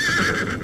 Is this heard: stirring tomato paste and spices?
no